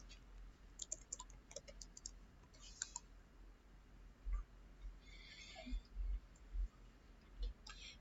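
A computer mouse clicks and a keyboard types while searching for and opening Notepad in Windows 10, with scattered sharp clicks and short bursts of quiet keystrokes over a soft background hum.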